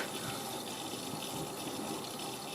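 Miele W562 Prestige Plus 6 washing machine taking in water for its first rinse on a towel wash, a steady hissing, gushing inflow that runs continuously and quietly without pause.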